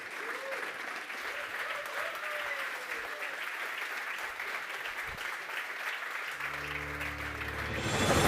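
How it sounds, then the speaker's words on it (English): Conference audience at a center-stage session gives sustained, even applause, a dense wash of many hands clapping at moderate distance, with a low tone entering near the end. "give a warm applause for Maya and Stefan."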